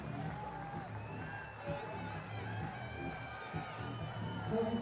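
Hungarian crowd cheering and shouting at a timbersports competition, a steady roar of many voices with occasional whoops, fairly loud and continuous throughout.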